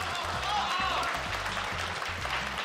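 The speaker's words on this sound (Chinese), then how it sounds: "我们掌声欢迎小裘。" A theater audience at a televised crosstalk comedy benefit show in Tianjin applauds to welcome the host on stage, a steady wash of clapping mixed with an amplified voice speaking over it.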